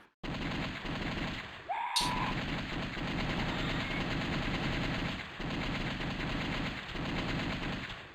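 Rapid gunfire in The House of the Dead on PC, a dense, loud, continuous burst of shots lasting several seconds with a brief high-pitched effect near the start.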